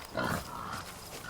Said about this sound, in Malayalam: കാട്ടുപന്നി എന്നെ എടുത്തിട്ട് പണി.